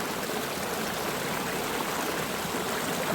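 Kaplyvets waterfall in Yaremche rushes in a steady, dense roar of falling water, heard close and loud without pause or voices.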